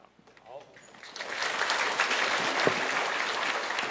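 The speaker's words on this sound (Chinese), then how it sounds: "热烈掌声" Audience applause after a Buddhist master's dharma talk at a gathering, building from a few scattered claps into sustained, dense clapping that fills the room.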